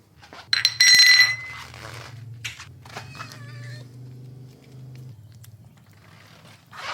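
A kitten at a hotel on Bali meows several times in short, rising cries, with bright jingling and clinking sounds near the start and a faint low hum underneath.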